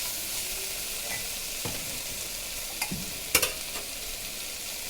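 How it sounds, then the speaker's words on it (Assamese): Kidney beans (rajma) frying in a pan, a steady bright sizzle throughout with a few scraping stirs and light clinks of the spoon against the pan. "ৰাজমাখিনি ভাজা হৈ গৈছে।"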